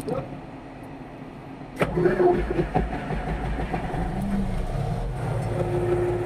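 Komatsu D375 bulldozer diesel engine starting up and running for a fan speed test, a steady low rumble that jumps louder after a sharp start and then holds at a constant idle drone.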